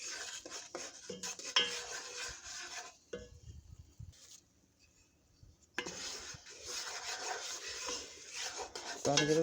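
Spoon stirring roux in a pot: a close scraping and rasping against the metal pot, repeated in strokes, with a short quieter pause in the middle before the stirring resumes.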